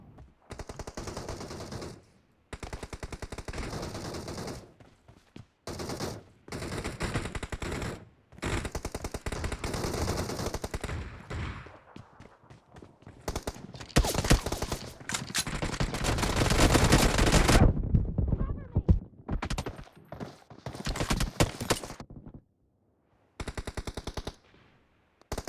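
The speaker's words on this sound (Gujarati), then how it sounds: "આપણે ગન રાખી છે યુએમપી." A UMP submachine gun firing during a team deathmatch in a video game, with rapid, loud automatic bursts in repeated runs broken by short pauses, fairly close and dense throughout.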